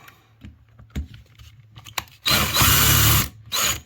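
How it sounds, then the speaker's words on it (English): Power drill spinning a bit during a luxury vinyl plank floor installation, a loud close whir running for about a second, then a short second burst after scattered light handling clicks. "See that drill bit spinning inside that."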